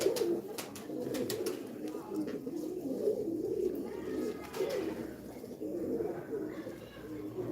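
Pigeons coo steadily in a low, continuous flock murmur while being fed, close by and fairly loud, with a few sharp clicks and flutters over the top.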